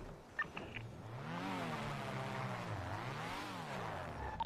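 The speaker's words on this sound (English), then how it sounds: "Bro, this engine is so loud." A video game car engine drones and rises and falls in pitch as it revs, steady and fairly loud, with a few faint clicks at the start.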